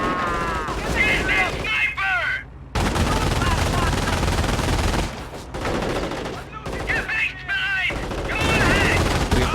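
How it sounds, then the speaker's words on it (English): Half-track machine gun fire in the Company of Heroes video game, with rapid bursts and scattered gunshots from several weapons crackling across the battlefield, broken by brief pauses and with voices shouting in between. "they add additional firepower to the half-track's own machine gun"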